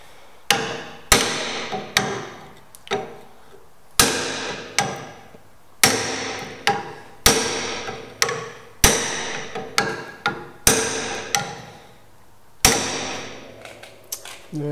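Repeated sharp metallic hammer blows on a Mk4 Escort car body panel, about a dozen at an uneven steady pace, each ringing briefly, struck close by.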